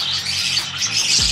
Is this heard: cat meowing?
no